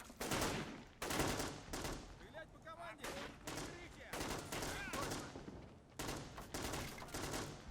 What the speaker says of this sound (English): the Russians here are providing some covering fire